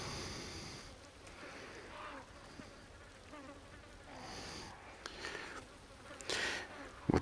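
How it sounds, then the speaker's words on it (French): Small flies buzz faintly around a foul-smelling spot in Resident Evil 4 played in VR, a quiet, wavering hum that drifts in and out beneath low game ambience. "On voit toutes les petites mouches."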